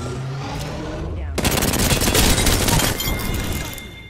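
Rapid automatic gunfire in the battle royale game Apex Legends, starting with a loud, dense burst of shots after a quieter opening and trailing off near the end, with faint talk in the mix.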